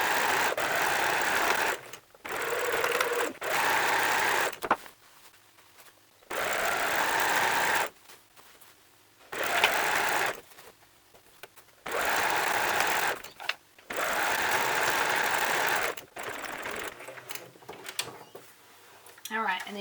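A sewing machine stitches fabric for book bags in loud, close bursts of steady whirring, starting and stopping every couple of seconds, with someone talking during the pauses.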